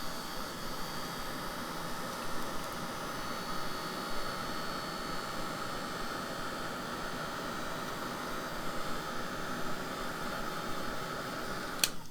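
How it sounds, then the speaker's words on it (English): A heat tool blows a steady, hissing stream of hot air over sticky ink on an accordion book page. The whir is constant and moderately quiet from start to finish, with a faint hum beneath it. "I'm just going to take my heat tool over that because, as predicted, it's quite sticky still."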